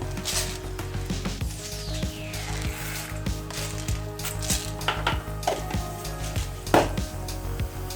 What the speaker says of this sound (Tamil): நல்லா கடுகு நல்லா பொரிஞ்சிடுச்சு பாருங்க. சலசலன்னு ஒரு சவுண்டு வருது பாருங்க.